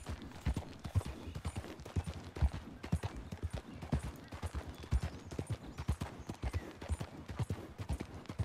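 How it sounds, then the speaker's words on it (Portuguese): Horse hooves clip-clopping in Red Dead Redemption II, a steady galloping rhythm of quick, close thuds with faint tack and mechanical rattles underneath and no talking. "o gosto de andar de cavalo"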